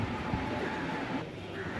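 Train number 06015, the daily Alappuzha Express special, rumbles faintly in a brief, low, steady run of rolling wagon noise, with no voices.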